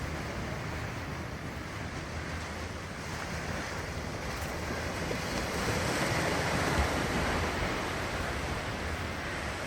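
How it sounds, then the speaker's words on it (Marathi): Continuous wash of surf rolling onto the calm shore of Dabolim beach, Goa, with wind buffeting the microphone and a gentle swell in loudness midway. "शांत किनारा."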